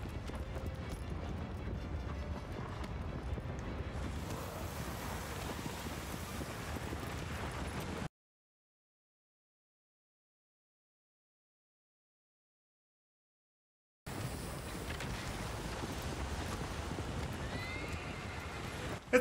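A horse gallops and neighs in the video game Shadow of the Colossus on PS4 Pro: quick clip-clopping hooves and whinnies, cut by a stretch of dead silence before the hoofbeats and neighs resume.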